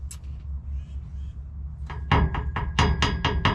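Exhaust on a 2006 GMC Sierra pickup knocking against the truck's underside, a series of sharp metallic-hollow clunks, about half a dozen in a quick irregular rhythm after a quieter rattle, close and loud.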